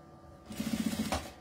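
A sewing machine runs a short stitching burst of about ten rapid, even pulses, sewing bias binding along the edge of a women's document wallet. It is close and moderately loud, with no talking.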